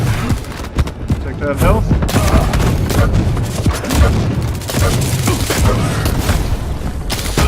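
Dense weapon fire and explosions in the arena shooter Quake Champions roll on almost without pause, loud and close, with a voice speaking briefly over the combat.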